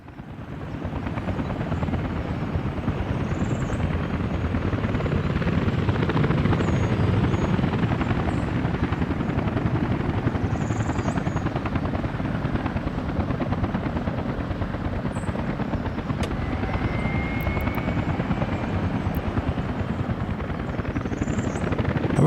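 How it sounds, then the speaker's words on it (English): A large in-game helicopter, a 13-ton model in the Soviet city-builder Workers & Resources: Soviet Republic, flies past with a steady, loud rotor drone and deep broadband rumble that holds for over twenty seconds, no voices over it. "I prefer a large helicopter."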